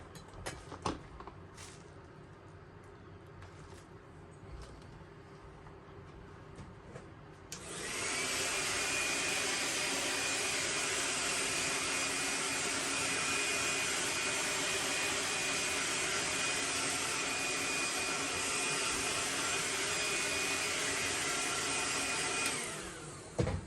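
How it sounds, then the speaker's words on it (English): A heat gun runs steadily for about fifteen seconds, heat-setting paint on a custom S-Crank knockout. It starts abruptly with a loud, even roar and a thin high whine, then cuts off, after a quieter stretch of small handling noises. "I'm gonna go ahead and just heat set that really fast"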